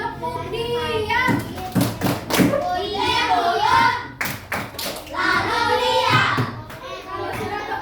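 Children in a classroom clap a rhythmic patterned clapping game in sharp bursts of hand claps and thuds, mixed with kids' chatter and an adult's voice talking.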